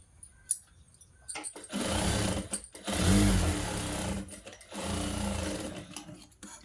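A sewing machine stitches the sleeve joint of a blouse in short close bursts of whirring, with clicks and handling sounds between runs.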